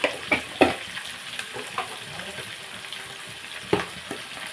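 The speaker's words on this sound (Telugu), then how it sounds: "కూర వండుతున్నాను గుమ్మడికాయ కూర" Pumpkin curry with turmeric, salt and onions frying in a pan and stirred now and then, soft steady sizzle with a few sharp scrapes and knocks of a utensil against the pan.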